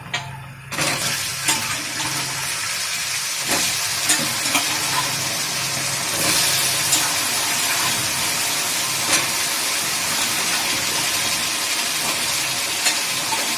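Potato pieces tipped into hot oil in a pan for a potato fry, giving a steady broadband sizzle with stirring clatter and occasional scrapes throughout, fairly close and continuous.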